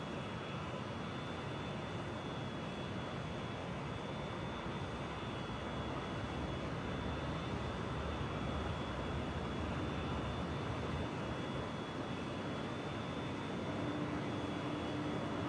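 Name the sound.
Su-27 jet engines taking off, from DCS World video game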